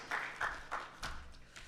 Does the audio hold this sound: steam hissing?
no